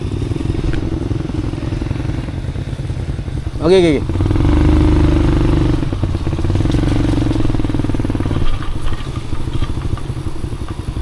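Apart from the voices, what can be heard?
off-road motorcycle riding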